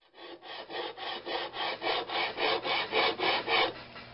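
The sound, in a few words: sanding Briggs primer plate on 80-grit paper over flat steel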